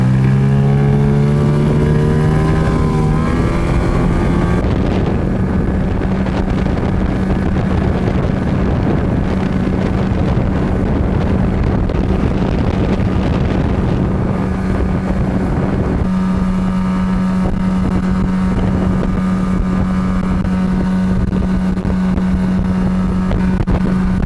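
An S-Marine 380 motorboat's outboard motor winds up, then holds a steady loud drone at top speed under heavy wind buffeting for about twenty seconds.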